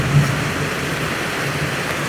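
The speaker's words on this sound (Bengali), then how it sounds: "কি বৃষ্টি হচ্ছে" Heavy rain pours down steadily over a farm where harvested paddy and maize lie outside, filling the air with a dense, even hiss and no voices.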